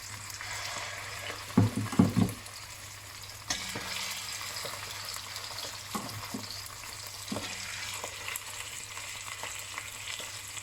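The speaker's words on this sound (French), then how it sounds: "Vous mettez vos saucisses à griller dedans sur les deux faces." Sausages frying in hot oil in a cocotte, a soft steady sizzle with a few louder crackles and spatters near the start.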